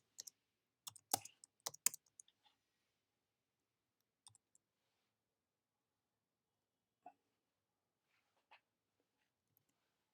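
Sparse, close keyboard typing: a quick flurry of key clicks at the start, then a few isolated taps separated by long silent gaps, no speech.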